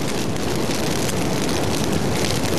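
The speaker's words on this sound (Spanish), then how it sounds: "Y una ventolera australiana trae consigo un tremendo ventarrón." Strong gusty wind during an Australian bushfire, a loud, dense, continuous roar without pause, heard up close with no voices.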